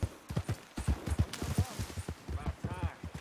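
Horse hooves clip-clopping in Red Dead Redemption 2, a steady close rhythm of hoof strikes mixed with in-game character voices talking over them.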